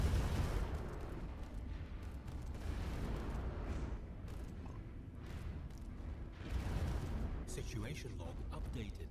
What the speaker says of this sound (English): We're going to have our long-range mega cannons and kinetic artillery.